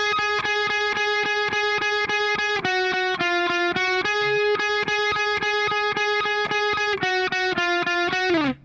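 Slow distorted electric guitar solo from a song: sustained, bent notes that step through a repeating picked pattern, with a slide at the end; clear and close, with no talking.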